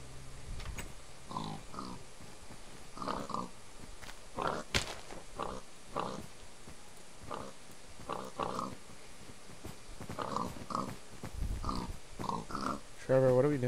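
Pigs in the Minecraft video game give short repeated grunts and oinks in bursts scattered across the stretch, mixed with game sounds and players talking throughout.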